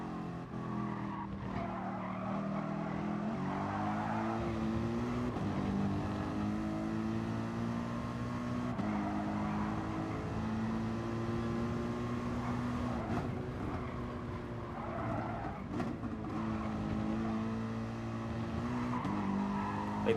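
Engines of a race car in a racing video game drone steadily as it drives a technical track, with long tire squeals and skids through the turns. The sound is continuous and fairly quiet overall.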